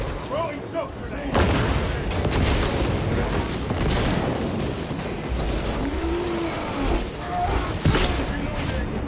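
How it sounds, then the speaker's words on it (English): A shock grenade thrown and detonating in Space Marine 2, with booming blasts and a rumble of battle noise throughout, a sudden onset near the start, scattered heavy impacts and brief whines over the combat din. "Throwing shock grenade."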